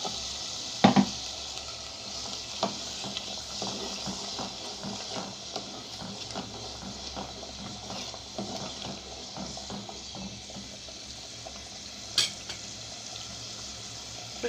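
Potatoes dropped into a pan of spiced oil with turmeric, a brief clatter on entry, then a steady soft sizzle of frying with occasional stirring scrapes, fairly faint and close.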